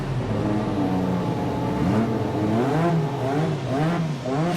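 Honda's restored Williams FW11 Formula One car runs at Goodwood, its engine heard from a distance revving and swelling in repeated rising pitches over steady background rumble.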